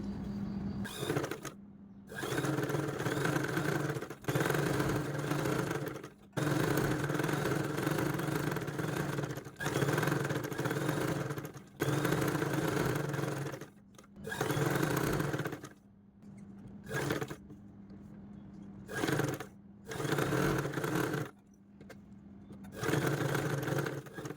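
Sewing machine stitching all the way around the edge of a dress front or back piece, running in loud steady bursts of whirring that stop and start repeatedly, with no talk.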